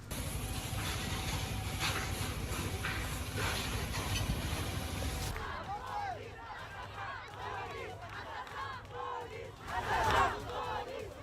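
A large crowd of protesters in France shouts and chants, first under a loud steady drone, then as a more open roar of overlapping voices with occasional louder cries.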